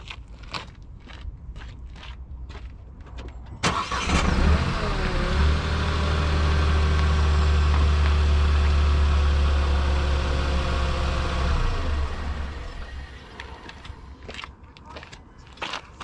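A truck engine nicknamed Bess fires up with a loud start, then settles into a steady low idle that runs for several seconds before it cuts off.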